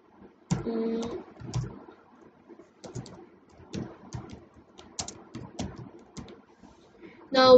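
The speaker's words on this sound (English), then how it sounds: "Now I can type here." Fingers tap an irregular run of close, crisp clicks on a computer keyboard in a quiet room, with short bursts and pauses between them.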